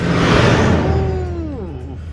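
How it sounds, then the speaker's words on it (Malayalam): A bus passing close on a coastal road, a loud engine whoosh that swells and then fades, with a voice speaking briefly over the tail of the pass. "ഒരു ബസ് വരുന്നോ, ബസ്"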